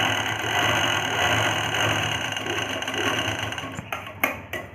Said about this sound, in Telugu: ఇలా స్ట్రైట్గా స్టిచ్ వేసాను కదా, దీన్ని వెనక్కి పంపించుకొని పైన ఒక స్టిచ్ వేసేస్తాను.